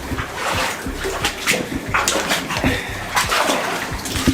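Person wading into water in a flooded underground tunnel of a large Third Reich complex: continuous sloshing and splashing with irregular surges, echoing and fairly close.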